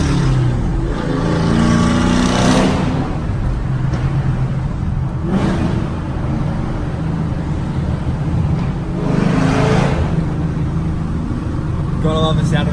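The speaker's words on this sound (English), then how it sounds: "Gotta love the sound of a V8." A Holden Monaro V2 V8 engine with extractors, high-flow cats and no muffler rumbles loudly from close range, swelling in several revving surges as it accelerates, with deep, throaty exhaust tones.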